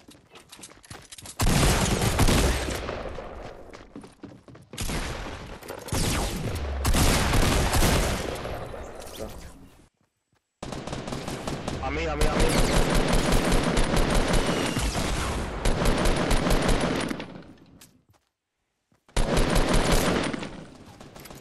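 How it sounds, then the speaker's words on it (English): Rapid automatic gunfire in the Fortnite Battle Royale video game, loud sustained bursts lasting several seconds each, broken by brief silent gaps, with no voices. "Over there, I'm shooting at him"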